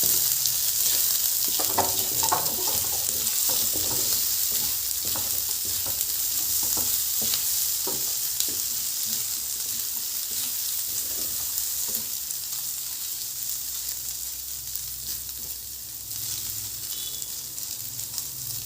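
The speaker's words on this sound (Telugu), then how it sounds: "ఇప్పుడు 1/2 కిలో తీసుకున్నాం కదా రొయ్యలు, అవి వేసేస్తున్నాను. కొంచెం ఫ్రై చేసుకున్నాం." Half a kilo of prawns fry in a hot pan, a steady sizzle running throughout while a spoon stirs and scrapes in irregular bursts.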